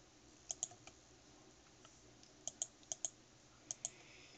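Computer mouse clicking while playing a modded game for achievements: about a dozen sharp, faint clicks come in small irregular clusters over quiet background hiss, with no talking.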